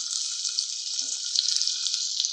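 Onion sautéing in hot oil with curry leaves in a kadhai, a steady, close, continuous bright sizzle with small crackles and a faint stir partway through, no voices.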